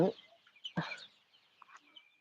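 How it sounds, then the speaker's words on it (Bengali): Chickens set out in the sun at a small poultry farm give a few scattered, fairly close clucks and squawks in a quiet setting. "এই কারণে মুরগিগুলোকে একটু রোদে দিলাম"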